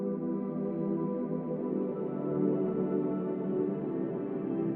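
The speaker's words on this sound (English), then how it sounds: "You can blend with 3 layers to create some pad sounds." A layered, sustained meditation pad from a Zen-style synth plugin, shaped with EQ and reverb. It holds as a smooth, steady, warm drone throughout, without voices.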